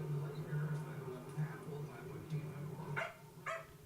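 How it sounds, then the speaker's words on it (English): A dog barks twice, faint and somewhat distant, over a low background hum with murmuring voices. "Dog's still worked up over this thing."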